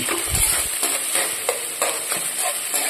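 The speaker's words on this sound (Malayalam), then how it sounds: "നമുക്കിത് അങ്ങോട്ട് ഇട്ട് കൊടുക്കാം നമുക്കിത് നന്നായി ഇത് നമുക്ക് വഴറ്റിയെടുക്കണം" Spices sautéing in hot oil in a pan for a quick tuna fish curry, a steady close sizzle with a burst of low clatter early on and recurring scraping stir strokes, with no one talking.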